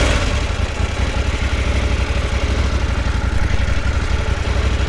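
A Yamaha Tenere 700 or KTM 790 Adventure motorcycle engine runs at a steady idle, a dense, continuous low rumble close by with no talking.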